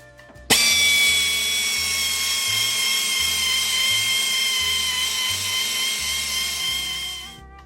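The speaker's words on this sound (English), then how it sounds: "just the air drill with a wire brush in it and clean off some of this carbon" A pneumatic air drill with a wire brush, cleaning carbon off 1930 Ford Model A piston tops, spins up with a sharp start and whines steadily at high pitch for several seconds, loud and close, before cutting off.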